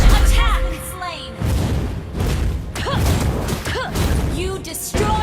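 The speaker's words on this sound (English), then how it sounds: "You destroyed a turret." A turret being destroyed in the Mobile Legends video game, heard as a series of booming, crashing impacts and bursts with game effects and chimes layered over game audio, fairly loud and continuous across the moment.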